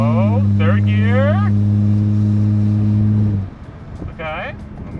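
A project car's engine holds a loud, steady, droning pull after shifting into third gear, then drops away sharply partway through, while voices are heard briefly over it.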